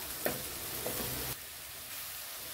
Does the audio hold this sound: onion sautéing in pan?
yes